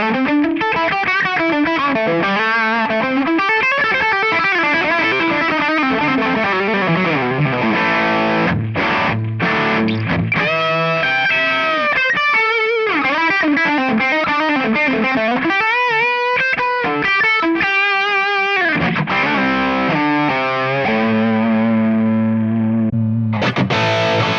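Heavily distorted high-gain electric guitar plays loud chords and riffs through an amp cabinet with Celestion Creamback speakers, thick and sustained with brief gaps between phrases.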